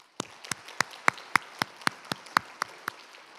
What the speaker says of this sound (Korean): 우리 박수해 주시기 바랍니다.